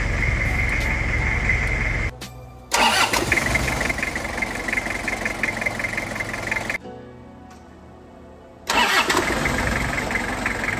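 A Toyota Kijang Krista diesel engine cranks and catches twice, each start followed by a steady idle, with a pause of near silence between the attempts.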